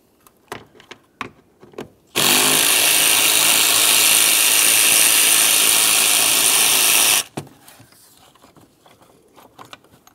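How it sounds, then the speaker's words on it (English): A power tool spins out an 8 mm headed bolt holding the radiator fan on a 2003-2011 Mercury Grand Marquis, one loud steady whir lasting about five seconds, with faint clanks and handling noises before and after. "Remove that 8-millimeter headed bolt."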